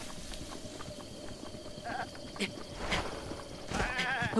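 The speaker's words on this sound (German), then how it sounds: "hier sind auf jeden Fall Ziegen" Goats bleat a few times amid Zelda: Breath of the Wild game ambience and scattered clopping, with a wavering bleat near the end; a voice speaks briefly underneath.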